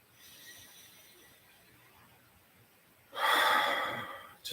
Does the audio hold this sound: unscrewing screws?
no